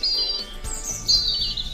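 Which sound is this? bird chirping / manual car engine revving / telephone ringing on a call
bird chirping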